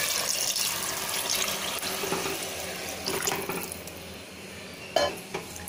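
Water poured into measured rice for a home-style chicken biryani, a steady continuous splash and trickle in a kitchen with a faint clink near the end, no one speaking.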